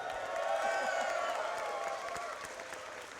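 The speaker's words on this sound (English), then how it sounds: "let's give a big cheer" A crowd at a Canadian video gaming event cheers and applauds together for a group photo, a dense, roomy wash of clapping and whoops that fades slightly toward the end.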